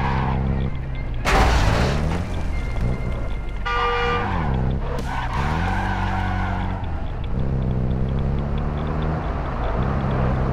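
A vehicle in the game Call of Duty DMZ drives and skids, with loud engine revs, repeated tire squeals and a horn-like tone, close and continuous without talk.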